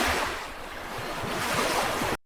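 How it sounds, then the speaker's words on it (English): Gentle waves break and wash along a beach, a continuous rushing surf with rolling swells under steady wind noise, with no voices. "the gentle crash of waves along the beach"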